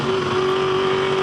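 Camaro touring race car at speed on the Sandown racetrack, its engine a loud, steady, high-revving drone held close throughout.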